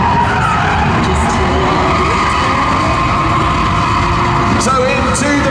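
Tyres of a Jaguar convertible doing smoky donuts in a live-action arena at a performance car show screech steadily and loudly, with engine roar under the squeal and faint crowd noise in the background.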